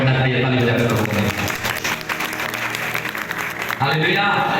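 Church congregation clapping to praise the Lord during a sermon on the anointing, a loud continuous wash of applause mixed with voices and music throughout.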